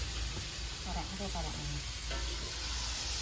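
Food frying in oil in a home kitchen pan, with a steady loud sizzle and hiss and a few scraping stirs of the spatula, close up and continuous.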